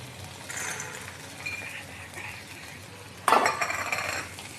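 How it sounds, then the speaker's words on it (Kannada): Peanuts tumble into a pan for chutney and get stirred, light clinks and scraping of a spoon against the metal, then a louder rattling burst near the end, with no talking. "ಇಷ್ಟಾದಮೇಲೆ ಶೇಂಗಾ ತೊಗೊಂಡಿದ್ವಲ್ಲ ಅದನ್ನು ಹಾಕ್ತಾಯಿದ್ದೀನಿ."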